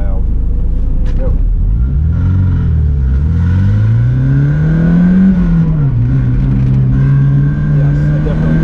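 An old sports car's engine is driven flat out on a race track, loud and close, its revving note rising and dipping through the run with steady rumble underneath.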